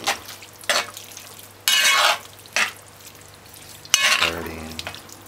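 Ketchup is stirred into cabbage and salt fish in a pot on a stove. A spoon scrapes the pot in several separate bursts over a low background hum, with faint sizzling and clinks of the pot.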